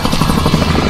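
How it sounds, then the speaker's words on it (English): Attack helicopter in the video game Warzone, its rotor thudding in a steady rapid pulse, loud and close throughout the brief moment. "there's an attack helicopter"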